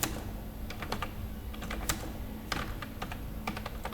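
Steady keyboard typing with rapid, irregular keystrokes throughout, close and clear, as a database insert query is entered; no talking.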